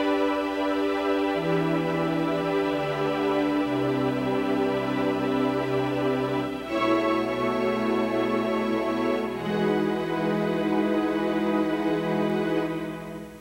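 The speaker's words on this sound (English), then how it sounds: "This is a special kind of sustain called string, and it sounds like this." An electric guitar run through a Roland GR-30 guitar synthesizer on its string sustain setting plays sustained chords, with several notes held while other strings keep moving over them, as a loud, continuous and dense sound with no talk.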